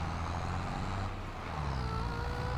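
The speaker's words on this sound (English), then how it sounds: "let's drive our tractor over to the other side of the field" Tractor engine in the video game Farming Simulator 25, a steady low rumbling drone as it drives across a field, close and continuous with slight shifts in pitch.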